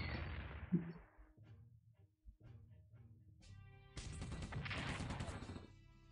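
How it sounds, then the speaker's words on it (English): Artillery fire in the World War II strategy game Strategic Command WW II: a sharp blast early on, a quieter low rumble after it, then a louder, sustained burst of crashing explosion noise toward the end. "okay that should be an artillery"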